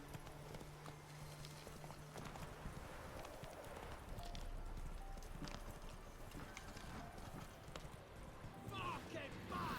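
Hooves of Roach, the horse in The Witcher 3 video game, clip-clop steadily beneath game music, combat noise and a talking voice.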